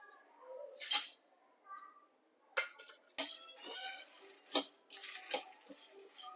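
Dry-roasting pepper, cumin, coriander, coconut, jaggery and tamarind in a pan brings quiet scrapes and light metallic clinks from stirring. The sounds come in irregular short strokes with soft pauses between them.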